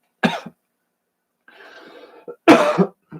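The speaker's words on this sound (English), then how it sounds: "Gotta love a good cough" A person coughs sharply twice, close up, with a raspy throat-clearing sound in between.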